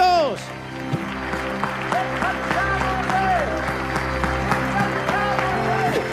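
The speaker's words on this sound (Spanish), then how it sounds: "Dale un aplauso grande al Señor en este primer mensaje del año." A church congregation applauds during a sermon, a sustained broad wash of clapping with music playing underneath and voices rising through it.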